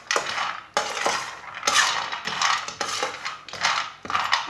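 Almonds roasting in a pan over low heat, stirred with a utensil that clinks and scrapes against the metal in repeated bursts, close and fairly loud, no talking.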